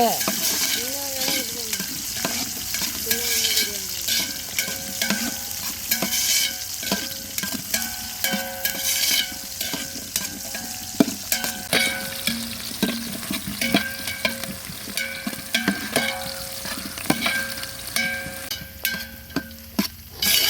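Chopped onions frying in a pot for chicken biryani, a continuous close sizzle with repeated scraping and clinking of a spoon as they are stirred, no talk.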